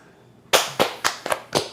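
A quick burst of five sharp, separate hand claps after a short quiet lead-in, close and moderately loud, with no voices.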